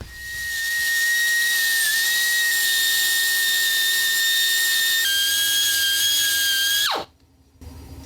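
A whiz wheel grinds the cylinder head of a Kohler Courage 19hp engine from a Cub Cadet, giving a loud, steady, high-pitched whine for about seven seconds that slightly shifts in pitch before cutting off and spinning down.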